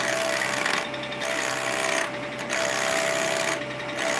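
A wood lathe spins at about 2,000 RPM while the tool makes a light cut, producing a continuous close whirring hiss that pulses as the cutting pressure eases and resumes.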